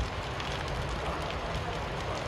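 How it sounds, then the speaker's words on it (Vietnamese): Rain falls steadily in Saigon, Vietnam, as an even, continuous hiss and patter with no breaks and no talking. "Mưa Sài Gòn, mưa Việt Nam"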